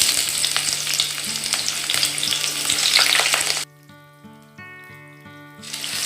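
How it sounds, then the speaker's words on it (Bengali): Finely sliced onions fry in hot oil left from frying soybean muitha, a loud, dense sizzle with stirring scrapes that cuts off abruptly partway, leaving quieter tonal hum and faint kitchen sounds. "এবার গরম তেলের মধ্যে দিয়ে দিচ্ছি সরু সরু করে কুচিয়ে রাখা পেঁয়াজগুলো।"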